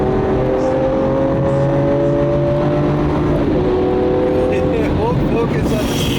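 A Lamborghini Aventador engine pulls hard and climbs steadily in pitch, loud and up close, with people talking over it throughout.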